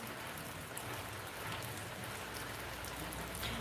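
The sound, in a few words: rain falling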